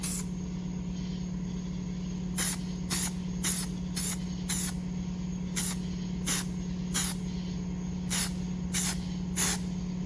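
A spray gun lays primer on a 1963 Chevy C10 truck in short, sharp hissing bursts, about a dozen evenly spaced pulses over a steady low compressor hum, close by with no talking.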